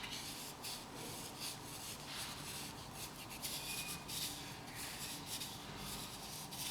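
Brush scrubbing colours together on paper during an onion painting, a steady soft rubbing and rasping texture that runs continuously with small bursts of strokes, close and fairly quiet.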